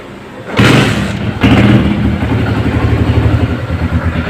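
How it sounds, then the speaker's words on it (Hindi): Grace 70cc motorcycle from 2014 firing up after a couple of thumping starter attempts, then settling into a steady, close putt-putt idle. "ये बाइक मैंने स्टार्ट कर दी है"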